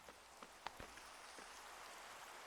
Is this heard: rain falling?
yes